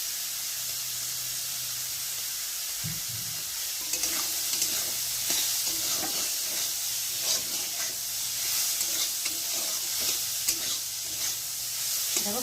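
Soybean chunks fry in oil in a kadai, giving a constant bright sizzle with scattered stirring scrapes and pops at moderate loudness, no voices.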